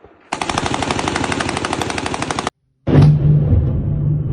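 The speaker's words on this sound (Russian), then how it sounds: "работало ПВО над Чебоксарами" Air defense firing over Cheboksary at night: a long rapid burst of automatic gunfire, loud and steady for about two seconds, then after a brief silence a deeper roaring rumble with a blast.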